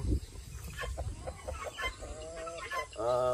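Several chickens cluck and murmur in short, overlapping bursts, fairly quiet and close, with one longer drawn-out cluck at the end.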